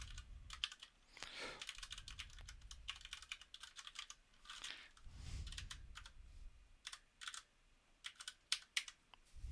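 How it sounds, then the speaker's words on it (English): Rapid keystrokes on a computer keyboard while contact details are entered, a quiet and close irregular clatter of clicks that comes in bursts with brief pauses. "Making typing look hard today."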